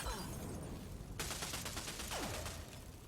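Rapid automatic gunfire in Rogue Company, a dense burst of evenly spaced shots starting abruptly and running for about a second and a half, loud and close, with a falling whistle-like sweep near the end.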